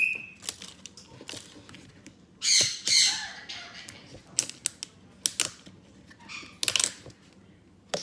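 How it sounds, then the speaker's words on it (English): A pet bird at home gives repeated loud, harsh squawks and shrill calls in bursts, mixed with small clicks and rattles, close up in a quiet room. "that's my bird talking"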